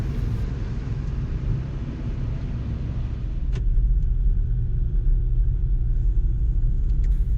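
A car drives along a snowy road with a steady, loud low rumble from the tyres and engine, and a brief click partway through.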